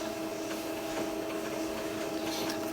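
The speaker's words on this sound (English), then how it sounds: "That printer's just sprung to life on its own." A desktop printer starts up and runs unprompted, giving a steady mechanical whir with a constant tonal hum that holds evenly at moderate level from start to finish, with no talk over it.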